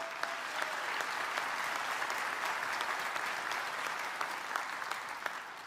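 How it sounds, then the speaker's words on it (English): Steady round of audience applause at a college commencement ceremony, many hands clapping at moderate distance in a large space, continuous and fairly even from start to finish. "let's give them a round of applause,"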